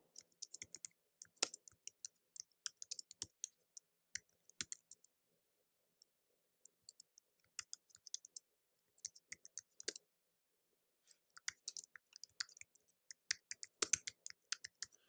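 Faint, close-up keystrokes on a computer keyboard come in irregular bursts of quick clicks, with short pauses between runs of typing and no voices.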